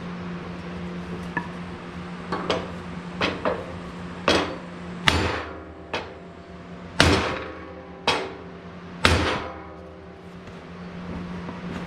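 Hammer blows bending a metal part on a Sears 10XL garden tractor: about a dozen sharp, close, ringing strikes at an irregular pace, getting heavier toward the end.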